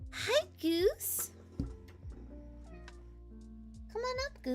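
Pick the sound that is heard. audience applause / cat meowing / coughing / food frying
cat meowing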